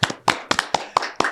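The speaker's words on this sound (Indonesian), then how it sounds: "Tepuk tangan." A short burst of hand clapping at a podcast welcome, with about six sharp, evenly spaced claps, close and loud, and no talk.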